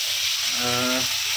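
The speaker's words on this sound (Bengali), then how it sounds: "ফুলকপি ভাজা হচ্ছে" Cauliflower pieces fry in a pan in a home kitchen, giving off a steady, close sizzling hiss, with a brief low humming tone rising partway through.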